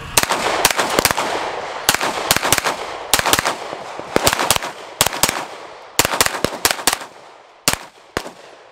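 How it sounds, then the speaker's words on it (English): Rapid strings of sharp, loud pistol shots from an FN High Power, fired in quick bursts with short pauses between groups, ringing out at close range with no talk. "I'm probably going to shoot quite a few rounds here."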